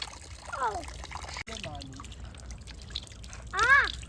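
Drinking water poured in a light trickle at home, running softly beneath people talking, with brief voiced bursts near the start and end.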